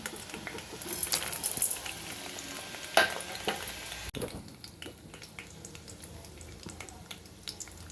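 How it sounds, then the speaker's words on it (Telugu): Urad dal, mustard seeds, cumin and dried chillies sizzle and crackle in hot oil, with a few sharp pops and stirring clatter over a soft steady fry, then a quieter sizzle. "ఇలా వేగితే సరిపోతుందండి"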